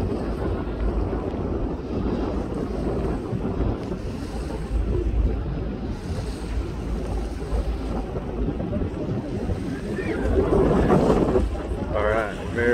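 Aboard the MV Coho ferry from Port Angeles to Victoria, British Columbia, a steady low engine rumble mixes with loud buffeting wind on the microphone throughout, growing stronger toward the end.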